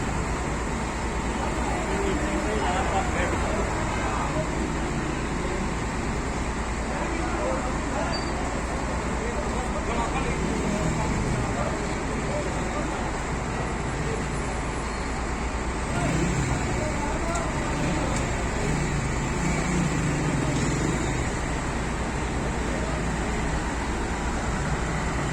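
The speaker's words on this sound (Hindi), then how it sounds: "ट्रैफिक की सूरत हाल भी आपके सामने है, क्योंकि वीकेंड रश लगा हुआ है।" Weekend rush-hour road traffic at the Bhara Kahu flyover makes a continuous, even roar of passing vehicles, with a voice speaking over it.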